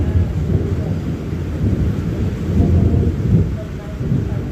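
Steady rain pours down while low thunder rumbles on and off throughout, a heavy, close storm sound.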